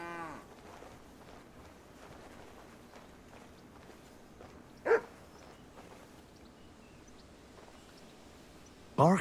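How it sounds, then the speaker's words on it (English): A dog in Kingdom Come Deliverance II gives a couple of sharp barks, one mid-way and one at the end, over a quiet rural background with distant lowing cattle. "Barking."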